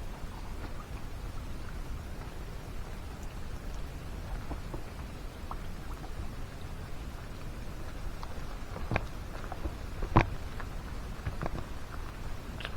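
Steady rain falls on a campsite during a thunderstorm, a dense even patter with scattered louder drops striking nearby surfaces and a few sharper ticks, continuous throughout with no voices.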